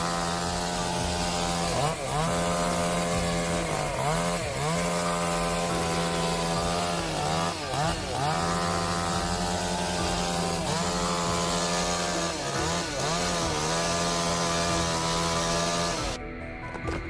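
A chainsaw cuts a tree with a loud, close engine drone that holds steady for about sixteen seconds and dips into repeated bogging surges as the chain bites into the wood, then cuts off abruptly.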